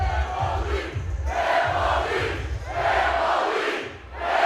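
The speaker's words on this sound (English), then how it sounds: "the chants you hear from the crowd" A wrestling crowd at a Juggalo Championship Wrestling show chanting in unison, loud rhythmic swells of many voices rising and falling in regular waves about every second and a half.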